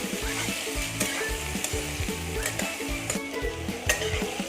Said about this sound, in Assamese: এয়া অলপ টাইম ভাজা হোৱাৰ পাছত ৰঙা হৈ গৈছে আলুখিনি।